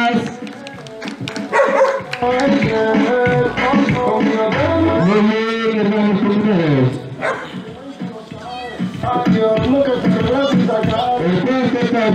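Small dogs yip and bark at a costumed pet parade during a rural community anniversary celebration, sharp high calls scattered through loud amplified talk and background noise, some whimpering tones mixed in.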